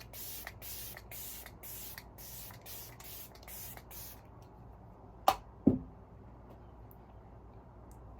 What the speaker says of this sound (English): Okay, setting spray. I'm currently using the Lise Watier Magnifix 4-in-1.